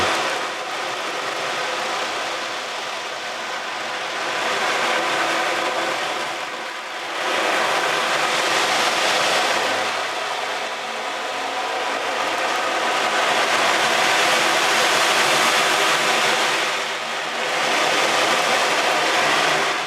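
Drum filled with rolling balls imitating the sea, a continuous broad hissing wash that swells and recedes in slow waves like surf, loud and steady with no voices.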